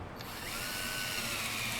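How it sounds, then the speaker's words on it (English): Power drill boring holes into a short wooden willow stick, a steady continuous whirring drone that holds throughout, close and fairly even, with no voices. "In one of the halves I'm using a drill to make 4 simple holes."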